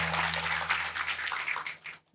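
A church congregation claps together: a dense, continuous patter of many hands that fades out toward the end.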